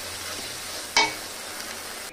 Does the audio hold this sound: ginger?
yes